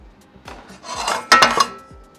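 Drilling a 5.5 mm hole for rivet nuts on a Sprinter 4x4 camper build: a close, bright metallic grinding and scraping swells for about a second with sharp bursts, then tapers off.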